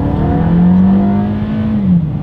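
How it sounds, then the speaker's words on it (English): A 2022 Toyota Camry in sport mode accelerates hard, its loud engine drone rising steadily in pitch, then dipping briefly at a shift before climbing again. "Let's put the acceleration to the test and let's see how quickly we can get our new 2022 Toyota Camry here up to speed."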